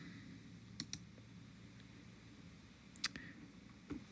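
Sparse, faint computer mouse clicks come in quick pairs and singles against a quiet room hum while someone clicks and edits a layer in a mapping app.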